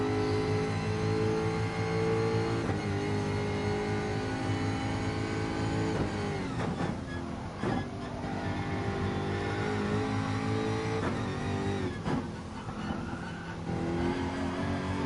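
Race car engine in a racing video game lapping the Red Bull Ring, a steady loud harmonic drone with rising and falling revs and brief dips around corners, running continuously without speech.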